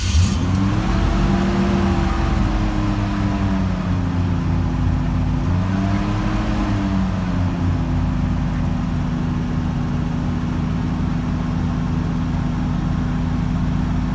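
A car engine, started for the first time in the season after sitting, runs close by and revs in slow rises and falls, holding a rough, uneven idle throughout.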